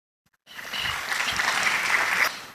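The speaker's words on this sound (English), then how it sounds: "They have clapped" Conference audience applauding at a data science and artificial intelligence event, steady sustained clapping that starts abruptly after a brief silence and holds at an even level for about two seconds, with no talk over it.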